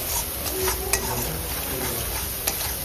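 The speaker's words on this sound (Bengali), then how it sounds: "আবারও সব মশলা একসাথে মিশিয়ে নিব" Spices with red chilli powder frying in a pan for a prawn curry, a constant broad sizzle with occasional sharp clicks of a utensil stirring and tapping the pan.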